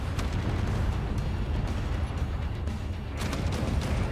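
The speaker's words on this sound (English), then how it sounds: "Check the flak cannons going off." Flak cannons fire in the game Space Engineers, a dense rumbling barrage of rapid booming bursts that continues without pause, loud and low.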